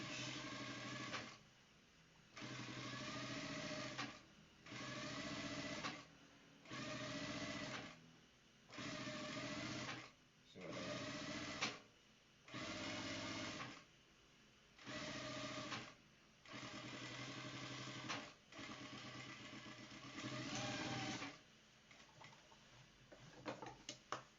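Sewing machine top stitching a vintage shirt, running in repeated bursts of about a second or two with short pauses between, a close, steady mechanical whir and patter, alone without talk.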